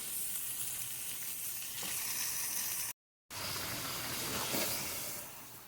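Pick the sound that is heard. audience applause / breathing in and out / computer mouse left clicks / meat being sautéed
meat being sautéed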